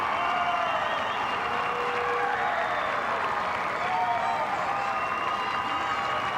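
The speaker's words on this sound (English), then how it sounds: "The crowd is roaring now." Steady roar of a large crowd at a high school state championship football game in Memorial Stadium, continuous cheering and applause filling the whole stretch at a loud, even level.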